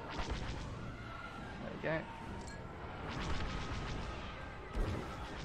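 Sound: starfighter cannon fire in Star Wars Squadrons video game

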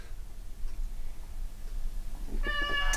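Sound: hungry cat meowing

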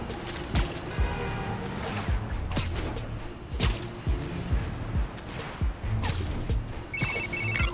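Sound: phone text message alert in Spider-Man Miles Morales video game

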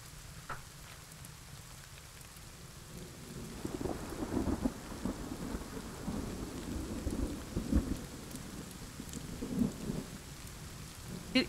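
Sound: rain and thunder in a video game

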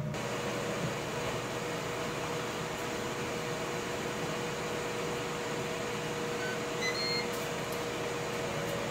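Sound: Ninja Foodi Smart XL Grill running while preheating

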